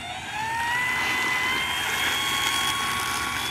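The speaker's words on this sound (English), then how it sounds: "we got a maiden flight going. What kind of plane is it? It's a Dynam SBach." A Dynam SBach RC model plane on its maiden flight, its small engine and propeller making a steady, loud whine that holds for the whole stretch with a slowly rising pitch and no talk.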